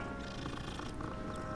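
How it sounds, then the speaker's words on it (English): A cat in the Hogwarts Legacy video game purrs while being petted, a soft steady rumbling purr, close and quiet, alone without talk. "Gotta pet the cat."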